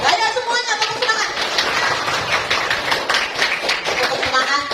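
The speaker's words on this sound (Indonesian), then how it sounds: "Ayo semuanya tepuk semangat." A group of students doing the tepuk semangat spirit clap at a school nutrition outreach event, brisk clapping in a roomful of people with voices chanting along.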